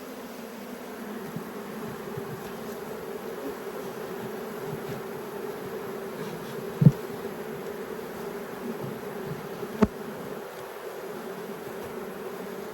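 Honey bees hum steadily around an open hive, a dense, even drone close at hand with two brief sharp clicks partway through and no voices.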